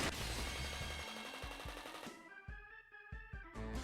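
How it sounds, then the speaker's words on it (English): Remodeled bottle rockets fired in a barrage in the Higurashi video game: rapid machine-gun-like bursts of pops and whooshes, dense at first, then separate sharp cracks spaced irregularly, loud and close with no talking. "Rocket-like objects flew at Rena from all sides."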